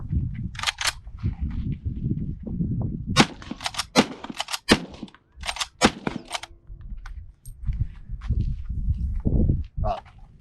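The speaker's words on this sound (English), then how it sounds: "4 rounds, 308 out of the Browning barrel." Four rapid rifle shots from a .308 Browning bolt action loaded with Remington Core-Lokt ammunition, each a sharp loud crack separated by bolt cycling clicks and rustling, close to the mic.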